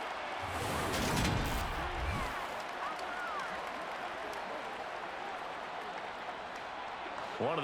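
A stadium crowd in the Madden NFL 23 football game roars with applause and cheering, a dense, sustained wash that peaks early and stays loud beneath the crowd noise.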